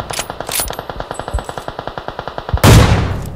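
Rapid automatic gunfire from a mobile shooter game, a steady burst of about twenty evenly spaced shots with a slight echo, ending in a louder, noisy blast near the end.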